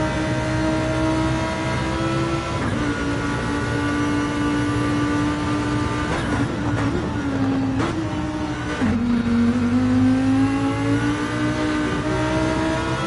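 A Gr.3 race car powers up the Mountain Straight at Bathurst in fifth or sixth gear, its engine a loud, sustained drone that climbs steadily in pitch, with a couple of brief dips before it pulls on again.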